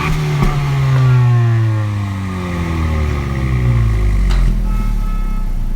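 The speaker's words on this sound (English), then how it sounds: "Give it a few revs." A 2017 Honda Civic Si coupe engine revving up and down close by, with rising and falling engine pitch swells under a steady idle across the clip.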